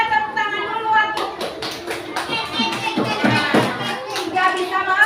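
Children in a classroom clap their hands in quick, patterned bursts, the sharp claps landing close together among several voices.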